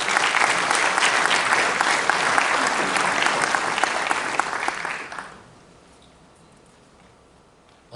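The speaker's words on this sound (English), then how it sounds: "Please give yourself a round of applause." A homeowners' association annual meeting audience applauds, with dense, loud clapping that holds steady for about five seconds and then stops abruptly, leaving quiet room tone.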